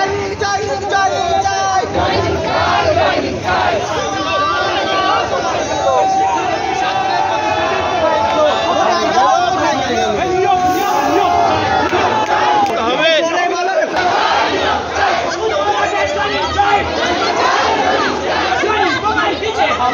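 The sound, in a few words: protesters chanting a slogan demanding joining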